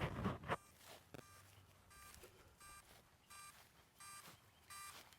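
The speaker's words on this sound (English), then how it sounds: "You can hear the beeping sound if you pay attention to that noise." A DJI Mavic Mini drone sits lost on the ground, emitting short, faint electronic beeps in a regular repeating pattern, about one every 0.7 seconds, after a brief rustle at the start.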